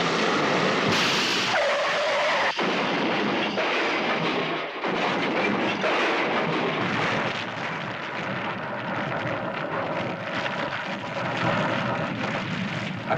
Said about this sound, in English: A tire burst and crash